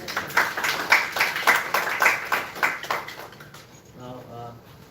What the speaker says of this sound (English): Can we give a round of applause there?